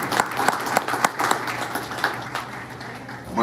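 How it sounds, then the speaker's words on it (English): A crowd applauding at a company meeting in a room, moderate volume with scattered sharp claps, the clapping thinning toward the end before a brief swell. "Everybody give her a warm round of applause."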